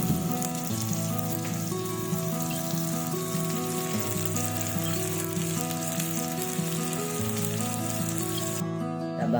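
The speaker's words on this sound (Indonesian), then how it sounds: "Kita masukkan cabai dan bawang yang sudah diiris-iris." Sliced red chili and shallots fry in a pan with a steady, close sizzle that holds evenly for the whole stretch, with faint tonal sounds in the background and no talking.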